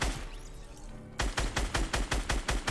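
Gunfire in Fortnite: Battle Royale, a brief low rumble then a rapid, evenly spaced string of loud, sharp shots bursting out and repeating steadily to the end.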